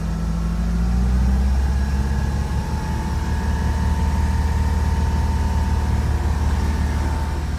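A Mercruiser 4.3 EFI boat engine runs on a Fletcher Arrowhawk during a sea trial, a loud steady drone that holds a constant throb with a slight swell early on and no voices.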